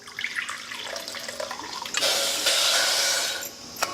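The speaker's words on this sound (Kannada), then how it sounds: "1 ಕಪ್ ಸಕ್ಕರೆಗೆ 1 ಕಪ್ ನೀರು ಹಾಕ್ಕೋತೀನಿ ನೋಡಿರಿ." A cup of water poured into a pan of sugar to make syrup for semolina burfi, a light trickle and drips that swell into a fuller, louder gushing pour, then taper off with a final splash.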